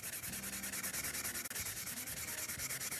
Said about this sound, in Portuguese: A gente vai vir fazendo o desgaste.